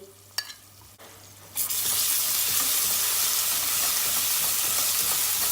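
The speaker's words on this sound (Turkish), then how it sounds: "Yine en kısık derecede domates salçasıyla biber salçasını bir kavuracağız." Tomato paste and pepper paste sautéing over the lowest heat for tarhana soup: a quiet start with a few taps, then a loud, steady frying hiss that carries on to the end, with no voices.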